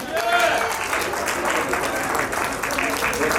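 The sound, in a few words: audience applause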